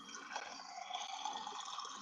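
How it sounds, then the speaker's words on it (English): Tap water runs into hot water at home, a steady close hiss of flowing and splashing liquid that continues for about two seconds without any talking. "the water sound is because it comes out too damn hot, so I add a little water"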